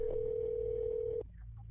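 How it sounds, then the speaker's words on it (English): A telephone ringback tone on an emergency 911 call sounds as one steady, loud electronic tone lasting just over a second before cutting off, followed by faint line noise. "911, just ringing"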